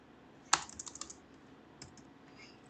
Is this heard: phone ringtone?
no